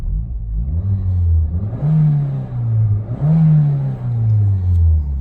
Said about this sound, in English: Engine's revving very, very nice